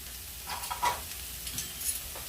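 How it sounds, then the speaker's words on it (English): Salted vegetables for egg rolls sizzle gently in a frying pan, with a soft steady hiss and a few light stirring scrapes close by and no talk. "that'll bring out the juices in the vegetables so that they fry a little better"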